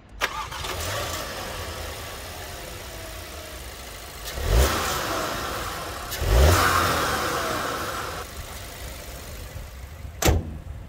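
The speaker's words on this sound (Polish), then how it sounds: "Pod maską testowanej Octavii RS pracuje dwulitrowy benzynowy silnik turbo o mocy 245 koni" A Skoda Octavia RS with a 245 hp 2.0 TSI turbo petrol engine starts and settles to idle, then gets a few sharp blips of revs, each rising and falling quickly, heard up close with no talk.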